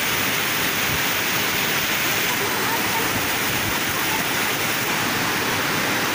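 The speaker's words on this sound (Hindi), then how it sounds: "ज़्यादा बारिश होने के कारण ये पानी ओवरफ्लो हो रहा है" A village waterfall swollen and overflowing after heavy rain roars loudly and continuously, a dense broadband rush of falling water close by that stays constant throughout.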